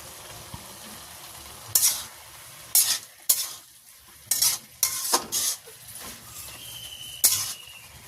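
Red amaranth greens being stirred in a frying pan, with bursts of sizzling and scraping strokes every second or so over a quieter, steady frying hiss.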